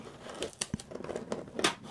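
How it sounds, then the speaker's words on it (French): Adhesive tape is peeled off in short crackling, tearing bursts, close and fairly quiet, with a few sharper peeling rips, recorded on a Behringer C2 microphone pair. "Juste un petit bout de scotch à retirer."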